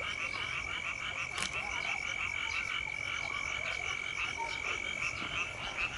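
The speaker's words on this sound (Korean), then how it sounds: "개구리 울음소리도 들리고" A chorus of frogs croaks continuously at Hoedong Reservoir in Busan, forming a dense, rapid, pulsing trill that stays steady throughout, with a few sharper calls standing out over the outdoor ambience.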